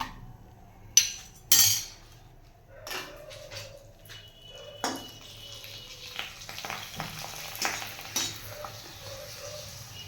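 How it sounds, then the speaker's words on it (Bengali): Potato finger chips fry in hot oil with a building hiss, set off by a few sharp clinks of utensils against a pan early on. "তেলে দিচ্ছি, নিজে নিজেই ফুলে যাচ্ছে।"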